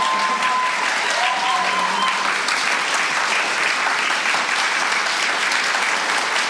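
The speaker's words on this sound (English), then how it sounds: "give a round of applause if you believe Witness for the Prosecution is Agatha Christie's greatest screen adaptation" A live audience at a recorded podcast episode applauds to vote on an Agatha Christie screen adaptation, a dense, steady wash of many hands clapping close by for the whole stretch, with faint tonal whistles near the start.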